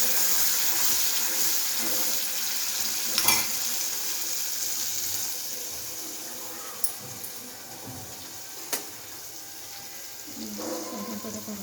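A ground spice paste with cinnamon, cloves and black pepper sautéing in hot oil, giving a soft, steady sizzle with occasional stirring clinks and scrapes, fairly quiet and with no talking.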